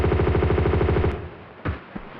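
Rapid M16 automatic fire in Tomb Raider 2, a loud, fast, steady burst of shots for about a second, followed by a few scattered impacts and thuds.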